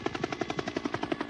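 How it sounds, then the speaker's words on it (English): Film sound effect of a helicopter built up from a fan, a steady rapid chopping thump of rotor beats, close and moderately loud with no voices. "they turn into a real helicopter coming from a fan"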